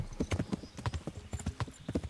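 Horse hooves gallop in the medieval video game Kingdom Come: Deliverance. A fast, even clip-clop of hoofbeats runs throughout, close and moderately loud, with no talk over it.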